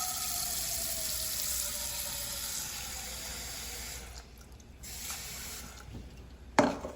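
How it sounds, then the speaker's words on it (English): Cold tap water runs steadily into a cooking pot for boiling eggs, a continuous broadband rush that dips briefly near the end and finishes with a small clunk, no voices present. "So we're going to put cold water in the pot."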